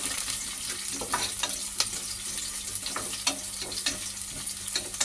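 Curry leaves sizzle in hot oil over chopped onion, a constant dense crackle and spatter with occasional sharper pops, close up and without talk.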